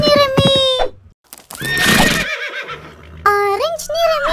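A cartoon horse neighs in a children's colour rhyme, with several bright whinnies spread across a few seconds, loud and close, broken by short gaps and a burst of noisy sound in the middle.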